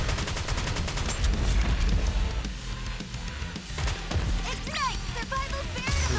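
Heavy automatic gunfire and explosive bursts from shooting a boss's wings in Goddess of Victory NIKKE, loud and continuous with rapid volleys, metallic impacts and scattered effects throughout.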